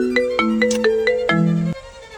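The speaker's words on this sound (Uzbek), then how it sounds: "Nima bu menga yana telefon qilyapti?" A mobile phone ringtone plays an incoming-call melody of bright repeated electronic tones, loud and close, stopping abruptly after a couple of seconds.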